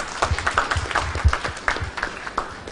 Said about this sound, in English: one round of applause, please